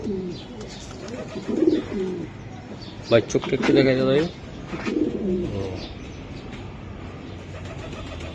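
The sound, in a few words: racing pigeon cooing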